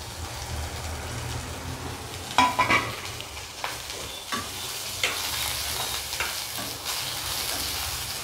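Garlic, peanuts and onion greens frying in a pan, a steady close sizzle with several sharp scraping stirs and clinks of the utensil against the pan.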